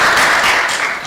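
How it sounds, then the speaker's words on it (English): Audience at a constituency MP aspirants debate in Eldama Ravine, Baringo, applauding with a dense, steady burst of clapping that fades slightly toward the end. "round of applause, please"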